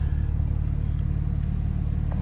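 A BMW M3 Competition xDrive engine and exhaust rumble with a deep, bass-heavy tone, a steady low throb that holds close and even through a short stretch.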